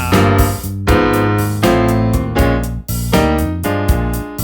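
Blues shuffle turnaround on piano in F, with thirds stepping upward over a steady low shuffle bass. Loud, close chords sound in a swinging rhythm with no talking.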